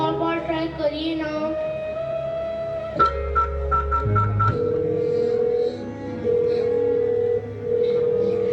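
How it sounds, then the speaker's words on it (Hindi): A telephone on a dropped call gives out steady electronic tones, a held beep first and then a series of shifting dial-type tones, moderately loud with background sound under them. "फोन कट गया शारदा जी।"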